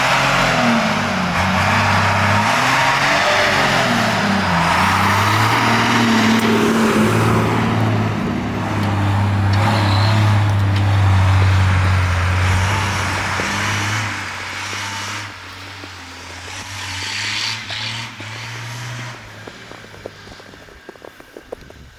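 A car drives along a snowy Norwegian winter road, its engine droning steadily and loudly throughout with shifting revs, the road and engine noise fading a little toward the end.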